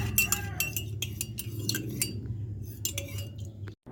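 A spoon clinks repeatedly against a glass while stirring calamansi juice and two spoonfuls of honey into a home remedy, bright rhythmic taps close up over a low background hum.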